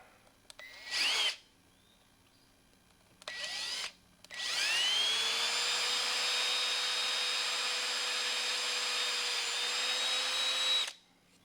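A power tool bores and melts a hole through a plastic grow bed, two short whining bursts followed by one long, steady, loud drilling run that stops abruptly.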